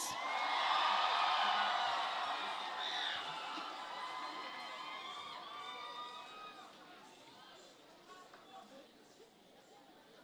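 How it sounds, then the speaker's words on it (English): An audience welcomes music department singers with applause and cheering in a youth gathering hall. The sound is loudest at the start, then slowly fades into scattered clapping and chatter. "Let's all welcome them again with a big round of applause."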